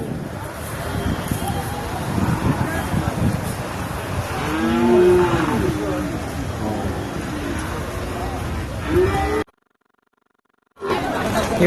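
Cattle at the Manapparai cattle market moo amid outdoor crowd chatter and distant traffic, with several drawn-out lowing calls under people talking nearby before a brief drop to silence.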